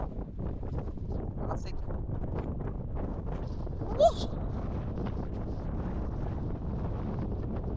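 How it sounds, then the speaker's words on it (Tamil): Strong wind roars steadily across a misty hilltop at Baba Budangiri in Chikmagalur, buffeting the microphone throughout, with a brief higher sound partway through. "அப்படியே காத்து ஒரு 30-40 ஸ்பீட்ல அடிக்குது"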